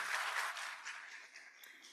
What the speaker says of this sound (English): please help me recognize their effort with a round of applause to them